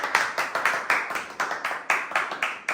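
A small group clapping for a person named Andrea, about a dozen loud, close, slightly uneven claps in a steady rhythm over under three seconds.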